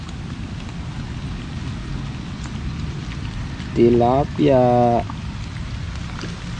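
Steady rain hisses throughout at the Angat River in Bulacan, a constant wash of falling drops, while someone speaks briefly over it partway through.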